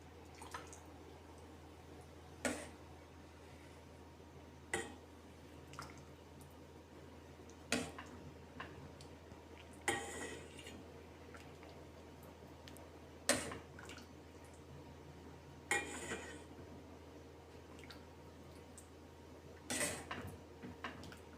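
Barley vermicelli soup being served into a plate: sparse clinks of a ladle or spoon against dishes and a few soft drips, spaced every couple of seconds over a steady low kitchen hum, with no talking.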